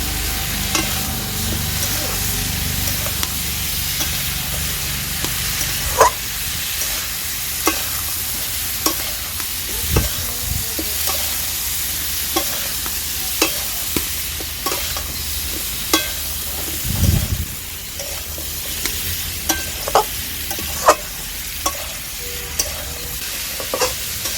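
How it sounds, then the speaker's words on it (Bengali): Steady sizzling of jackfruit frying in a pan, with periodic scrapes and knocks of a spatula stirring throughout; no talking. "এবার আমি এটাকে ভালো করে ভাজতে থাকবো"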